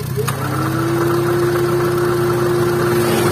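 Honda Brio engine idling roughly with the air conditioning switched on, a close, steady drone carrying a constant humming tone after a brief click near the start.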